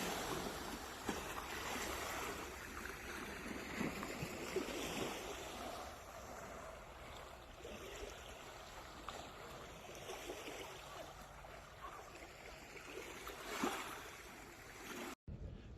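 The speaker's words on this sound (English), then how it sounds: "even if it's just wake from a boat, I love that sound." Boat wake laps and splashes steadily against a lakeshore, a continuous gentle churning of small waves with soft surges rising and falling throughout.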